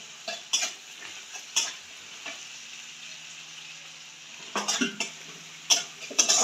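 Ginger paste sautéed in a pan, a soft sizzle broken by a few sharp spoon scrapes and stirring clatters against the metal, close but quiet.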